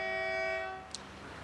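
A train horn at New Jalpaiguri railway station sounds a sustained, harmonically rich blast that cuts off, leaving low station ambience and a brief click.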